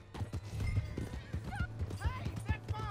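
A horse's hooves clip-clop steadily in the open-world game Red Dead Redemption 2, near and rhythmic, and a couple of short whinnies and neighs rise over the hoofbeats, with voices talking faintly in the background.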